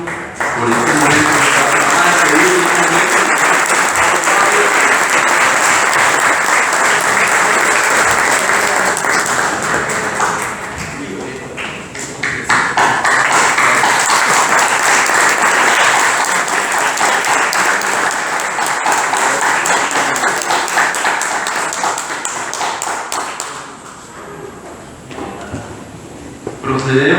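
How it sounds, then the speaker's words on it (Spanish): An audience at a cultural tribute event applauds girls from the Julián Borio school, a loud sustained clapping that fills the whole stretch, dips briefly midway, then swells again before tapering, with a voice speaking over it. "Vamos a darle un aplauso a las niñas de la Escuela Julián Borio por este momento."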